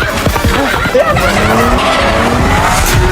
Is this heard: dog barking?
no